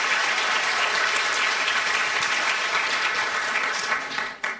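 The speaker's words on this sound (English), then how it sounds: "Can we give Amanda just one more round of applause for stepping up in a pinch?" Warm, sustained applause from an audience at an evening author event, clapping evenly before tapering off near the end.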